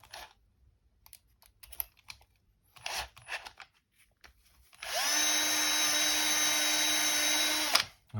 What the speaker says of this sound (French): hop, un petit coup de brosse.